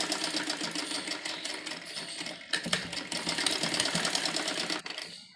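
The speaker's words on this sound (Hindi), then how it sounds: "तो हल्का हल्का बुकरम को दबाते हुए सिलाई लगाएंगे।" An electric sewing machine stitches heavy suit fabric backed with buckram, a close, steady rapid whirring drone that pauses briefly midway and stops at the end, with no talking.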